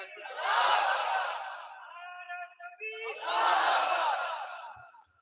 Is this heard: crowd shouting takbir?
yes